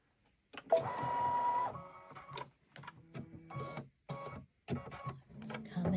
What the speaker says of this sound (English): and I'm going to let it embroider.